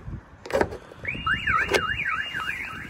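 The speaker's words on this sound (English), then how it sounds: "So that sets off the factory alarm and my Clifford alarm." A Peugeot Partner van's factory and Clifford alarms go off after a couple of sharp knocks trigger the shock sensor, the warbling electronic tone sweeping up and down steadily and loudly.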